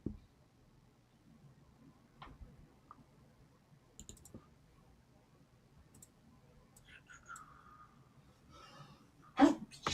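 A single sharp, loud sneeze near the end, after quiet clicks, faint whispery noises and soft breathing.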